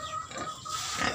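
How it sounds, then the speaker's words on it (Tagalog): A pig named Adil grunts and snuffles at close range on a small farm, in short rough bursts over steady background noise, with no talk. "ang aming baboy na Adil"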